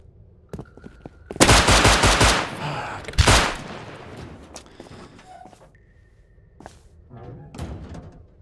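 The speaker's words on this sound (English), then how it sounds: "I didn't know he got 4 shots off on me." Gunfire in the survival video game Rust: a few isolated shots, then a dense burst of rapid automatic fire, a pause and another loud volley, followed by scattered thuds and footsteps, close and loud.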